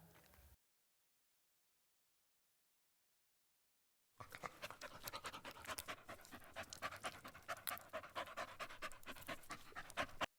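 A large dog panting in quick, steady, close breaths, continuing for several seconds after a short burst and a stretch of silence.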